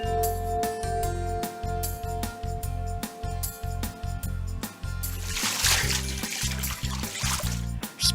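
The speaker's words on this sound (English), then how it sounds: "Splashing water!" Bath water splashes and sloshes in a tub in repeated, rhythmic bursts, close and lively, layered over a light background musical tone.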